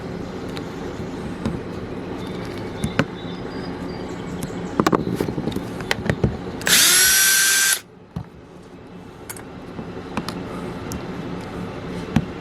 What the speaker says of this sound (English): We're just going to dig all them screws out, probably be 5 or 6 of them